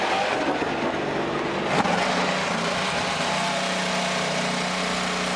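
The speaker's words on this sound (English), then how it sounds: "Drivers, start your engines!" IndyCar race car engines starting at Road America, a loud rough mechanical rumble with a sharp burst near the two-second mark, settling into a steady idling drone with no voices.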